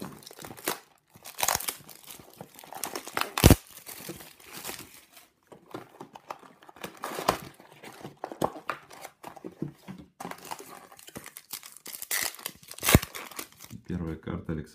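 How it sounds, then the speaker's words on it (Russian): A foil wrapper on a box of 2016 KHL Platinum Collection hockey cards crinkles and tears open in bursts of crackling and sharp rips, with someone talking throughout. "Приступаем к вскрытию третьего блока"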